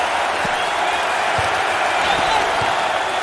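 A dense, steady roar of an arena crowd at a college basketball game in NCAA March Madness 08, cheering loudly throughout with a few faint low thumps underneath.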